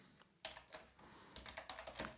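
Quick bursts of key taps on a computer keyboard while code is typed, an uneven run of close, light clicks with short pauses between them.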